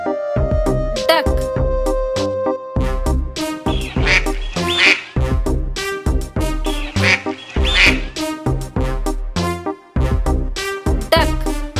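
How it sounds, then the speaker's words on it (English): Duck quacks from a farm-animal sequence, set against dense music, with loud repeated calls standing out near the middle of the stretch. "Duck."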